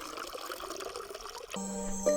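Rinse water drained off freshly washed coffee beans, a steady close pour and trickle that grows into a louder, fuller stream partway through.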